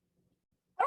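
A single short dog bark bursts out loud and close at the end, after near silence broken only by faint low murmurs, in a botany class setting.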